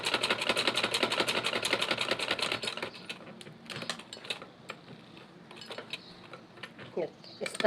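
A sewing machine stitching a neck design with dori runs in a fast, steady rattle for a few seconds, then stops. Scattered light clicks and ticks follow at close range.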